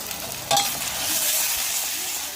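Tomatoes stir-fry in hot oil with a steady, close hiss and sizzle, a single stirring scrape near the start, then continuous frying.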